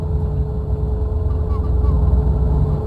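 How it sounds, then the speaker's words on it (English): A Cessna 414AW twin piston engine in Microsoft Flight Simulator drones through an open cockpit window as a steady, loud, low hum with a constant tonal whine and no break. "You can hear the engine outside."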